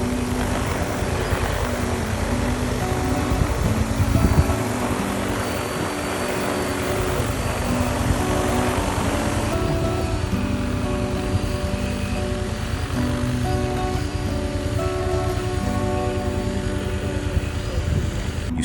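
A crop-spraying aircraft flies over fields with a steady, droning propeller engine hum that holds level throughout and shifts slightly in pitch partway through.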